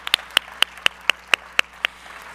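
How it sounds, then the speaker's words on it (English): Nine slow, evenly spaced claps ring out crisply at a conference as thanks for a panel, sounding like only one or a few people clapping against a quiet room. "let's please give them a round of applause for sharing their knowledge with us and time today"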